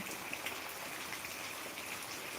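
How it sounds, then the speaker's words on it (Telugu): Steady, dense rainfall hisses continuously, close by and fairly loud, with no other sounds standing out. "ప్రస్తుతానికైతే మన గ్రామంలో అయితే వర్షం పడుతుంది"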